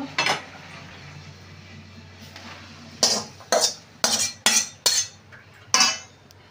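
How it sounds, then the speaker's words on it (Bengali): Boiled elephant foot yam stems are tipped out of a metal pot in a home kitchen, with one clank and then a burst of about six sharp metallic knocks and scrapes, close and distinct. "ওলের ডাঁটাটা সিদ্ধ হয়ে গেছে, এবার ঢেলে দেবো।"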